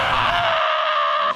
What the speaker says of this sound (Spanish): No creo que pueda contener mi grito.